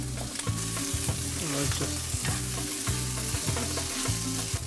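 Rice stir-fried in a pan for Thai fried rice, loud sizzling with rhythmic scraping strokes of a spatula repeating steadily, close up and without talk.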